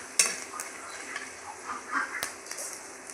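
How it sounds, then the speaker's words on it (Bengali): Dried red chillies and bay leaves with five-spice seeds fry in hot oil in a kadai, a faint soft sizzle broken by light clinks and scrapes of a stirring utensil against the pan. "হালকা একটু ভেজে নিচ্ছি।"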